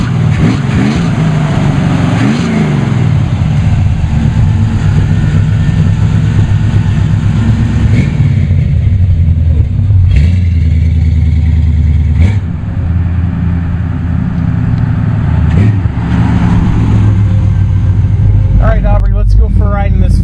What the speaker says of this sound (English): Let's go for a ride in this 55 hardtop. Drives out real nice, it sounds real good